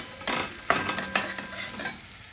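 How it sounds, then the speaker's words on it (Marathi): Mustard seeds, curry leaves and onion crackle in hot oil in a pan, a soft continuous sizzle broken by several sharp spatula-stirring scrapes spaced through the couple of seconds. "हे बघा मोहरी टाकली मी आता त्याच्यामध्ये हे बघा त्याच्यामध्ये कढीपत्ता कांदा सर्व काही मिक्स केलं मी"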